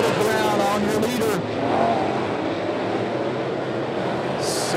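Sportsman race cars roar around a track in a steady, loud engine drone, with a commentator's voice over the start before the cars pass.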